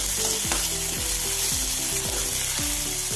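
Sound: mustard seeds and chopped onions frying in hot oil

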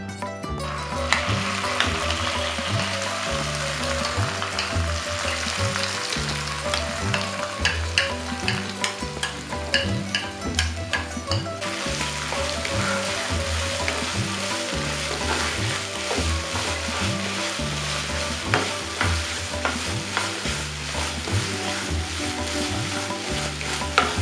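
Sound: ground spice paste frying in tempering

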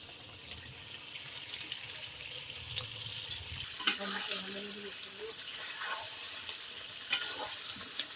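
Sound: potatoes added and stirred into frying meat curry

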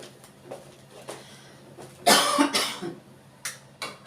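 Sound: cough

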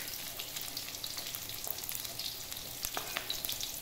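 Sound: sautéing garlic and shallots in a pan

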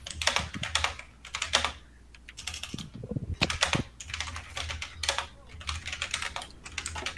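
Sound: furious typing on a computer keyboard

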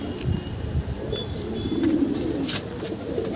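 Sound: pigeon cooing

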